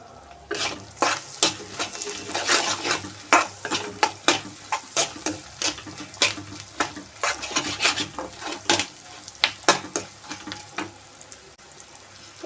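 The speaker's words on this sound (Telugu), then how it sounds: "వీటిని తిరగమాతని బాగా వేపుకోవాలి." Mustard seeds and dried red chillies fry in hot oil for a tempering, with a steady sizzle broken by repeated scraping stirs and clinks of a spoon against the pan.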